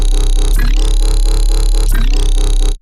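A Vital synth lead bass with LFO2 set to 1/8 modulating oscillator 1 and oscillator 3 levels: a loud, dense sustained tone with rhythmic pulsing and two sweeping filter-like swoops, cutting off abruptly at the end.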